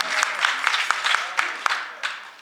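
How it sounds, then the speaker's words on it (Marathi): A kirtan audience claps enthusiastically, a dense burst of applause from a nearby crowd that fades over a couple of seconds. "जोरदार टाळ्या वाजल्या"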